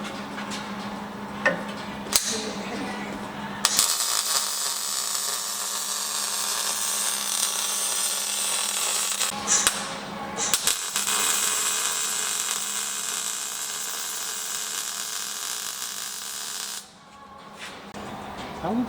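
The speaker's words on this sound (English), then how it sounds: "Let me weld." Welding on the exhaust of a 1937 Lincoln Zephyr gives a long, steady, crackling hiss from close by, broken by brief pauses.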